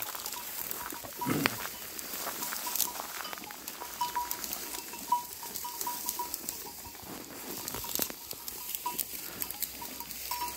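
A flock of sheep grazes in an unharvested wheat field, soft rustling and chewing patter mixed with scattered tinkling bells and light knocks, steady and fairly close but quiet overall.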